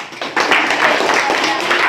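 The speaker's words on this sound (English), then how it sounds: "Give him a clap." A classroom of students bursts into clapping for a classmate in a Grade VIII mathematics lesson. Dense, close applause is mixed with children's voices and lasts under two seconds.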